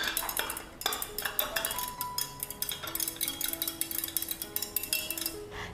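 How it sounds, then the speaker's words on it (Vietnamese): A spoon stirs a turmeric and coffee mixture with hot water in a cup, giving quick, repeated clinks and scrapes against the sides, close and fairly loud, with no voices. "Mình sẽ khuấy tan hết tất cả ra."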